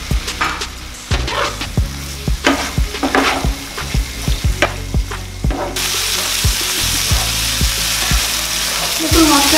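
Spice paste with chopped green chillies frying for a tangra fish curry, with loud rhythmic scraping and tapping of a spoon against the pan over a sizzle that swells into a dense, hissing fry in the latter half.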